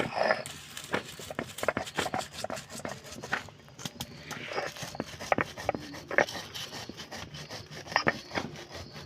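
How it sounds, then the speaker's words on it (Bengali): Roasted spices being ground into powder by hand, a steady series of gritty rubbing and rasping strokes with scattered sharp knocks, close and moderately loud, with no talk. "ভাজা মশলা গুঁড়ো করে নেব"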